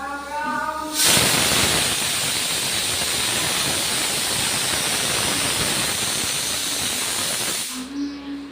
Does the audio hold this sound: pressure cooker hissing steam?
yes